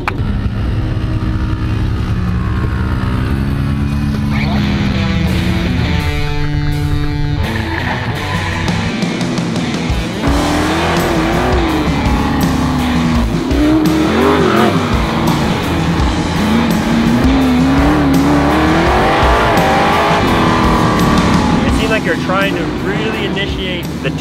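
A sprint car engine revs hard and loud, swinging up and down in pitch as the throttle is rolled off and back on, with tire skidding and someone talking over it throughout.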